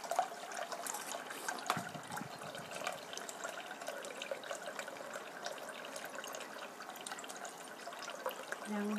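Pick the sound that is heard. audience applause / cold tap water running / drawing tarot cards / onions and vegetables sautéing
cold tap water running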